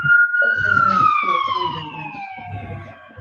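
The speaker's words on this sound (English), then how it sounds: "Got the siren going." A police siren wails in a long descending sweep, fairly close and loud, with traffic rumble and faint voices underneath.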